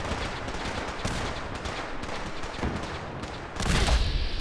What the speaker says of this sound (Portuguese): Ih, tá rolando tiroteio de tudo quanto é jeito, olha lá.